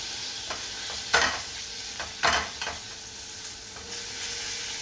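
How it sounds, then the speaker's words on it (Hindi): Spinach sautéing with ginger in a pan, a soft continuous sizzle with a few sharp scraping stir strokes from a spoon, heard up close with no talking. "जैसे आप लोग छौंक लगाते हैं और उसको पहले डालकर भूनते हैं, तो इस तरीके से हम इसको भून लेंगे।"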